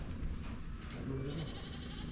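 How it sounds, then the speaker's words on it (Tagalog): A goat bleats in short wavering cries over a dense low background of noise, faint and somewhat distant. "dinala na din dito yung kambing"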